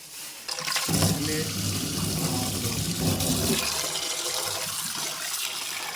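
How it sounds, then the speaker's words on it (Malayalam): Tap water runs steadily into a sink while half a kilo of raw chicken is washed in a home kitchen, a continuous splashing rush with no talk. "അര കിലോ ചിക്കൻ എടുത്തിട്ട് നമ്മൾ കഴുകിയെടുക്കാൻ പോവാണ്"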